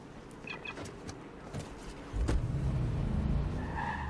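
A car starts and skids in the video game Watch Dogs 2, with light clicks and chirps at first, then the engine rumble swells and tires scrub in the final seconds.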